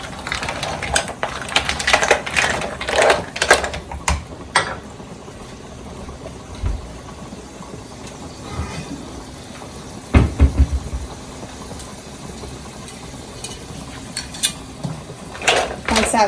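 Linguine with clams and parsley being stirred in a pot, giving clattering metallic scrapes and knocks in uneven bursts, busiest early and again near the end, with quieter stretches between.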